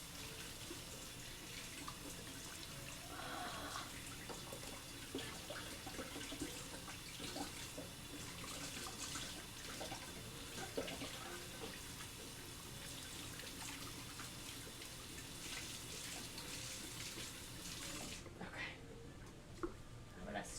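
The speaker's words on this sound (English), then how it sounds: "I'm going to wash my hands." A kitchen tap runs steadily while someone washes dough off their hands, a continuous close splashing under talk and faint background clatter, cutting off near the end.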